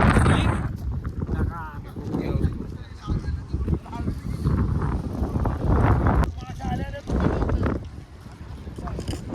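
Strong gusts of wind buffet the microphone in loud, rushing bursts, with some muffled voices underneath.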